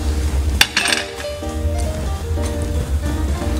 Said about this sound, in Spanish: Vamos a ponerle los anacardos.